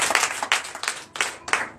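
A church congregation claps together in a steady rhythmic beat during a Sunday worship service, the applause moderately loud and close with no talking over it.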